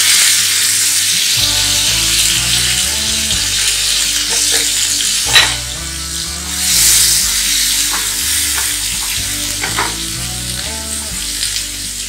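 Onion paste sizzles loudly and steadily in hot oil in a pan for kofta curry, a dense continuous frying hiss with occasional stirring scrapes, close up and with no talking.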